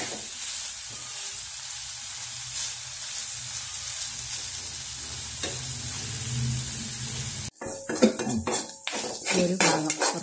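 Ginger fried on high flame for Onam injikkari sizzles steadily in a pan, then a utensil scrapes and clatters against the pan as it is stirred repeatedly near the end.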